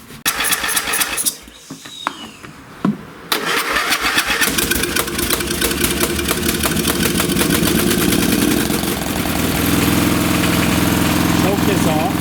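A small lawn tractor engine starts after its carburetor screw is turned out, sputtering briefly before catching, then running loud and close with a steady rough idle that holds to the end.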